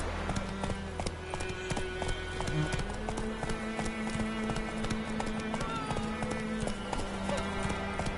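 Roach the horse gallops in The Witcher 3, hooves clip-clopping in a fast, steady rhythm throughout, close and clear over music and ambient wind.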